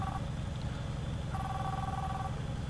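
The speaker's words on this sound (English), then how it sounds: "Sorry, phone call." A phone rings inside a truck cab in Euro Truck Simulator 2. Two bursts of a trilling ring, one brief and one longer, sit faintly over a steady engine drone with no speech.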